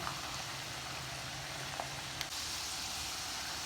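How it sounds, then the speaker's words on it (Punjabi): Potatoes frying in a little gravy in a pan for a karela aloo pyaz fry, giving a steady, even sizzle close by with no talking and only small pops along the way. "ਸੋ ਇਹਨਾਂ ਨੂੰ ਵੀ ਅਸੀਂ ਥੋੜੀ ਗ੍ਰੇਵੀ ਵਿੱਚ ਫਰਾਈ ਕਰ ਲਾਂਗੇ"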